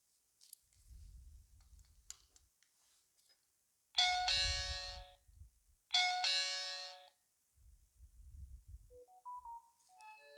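An ENNTRON EN15 WiFi digital door viewer sounds its incoming call alert: two bright chime bursts about two seconds apart, separated by faint handling clicks and thumps, followed by a soft rising beep tone near the end.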